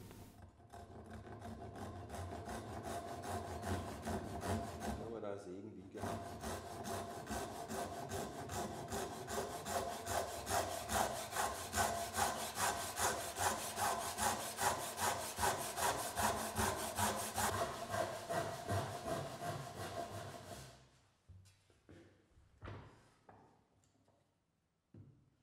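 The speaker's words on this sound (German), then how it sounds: "Auf der Innenseite wird der Zapfen wiederum auf beiden Kanten bis zum Falzriss eingesägt." A hand saw cuts the inner edges of a mitred wooden tenon down to the rebate line, giving about twenty seconds of close, rhythmic rasping strokes before stopping, followed by a few faint scrapes.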